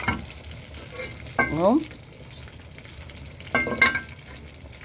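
Eggplant fries in a small amount of oil in a pan, with a steady close sizzle and a couple of louder stirring scrapes, and a brief word spoken.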